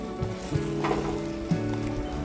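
Close, steady sizzle of tomato and salt frying in a pan for chicken curry, a dense crackle with soft stirring bumps and scrapes now and then, no voice.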